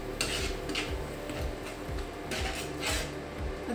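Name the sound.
marinated liver (kaleji) added to hot spiced oil in pan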